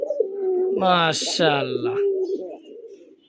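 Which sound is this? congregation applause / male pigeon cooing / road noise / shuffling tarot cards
male pigeon cooing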